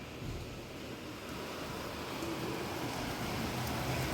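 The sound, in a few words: heavy rain heard from inside a car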